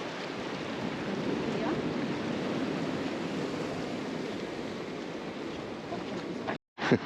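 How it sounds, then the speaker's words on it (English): Waves wash continuously against coastal rocks on South Australia's Fleurieu Peninsula in a broad, steady roar, with wind buffeting the microphone before a brief cut near the end. "Here's the tide on those rocks."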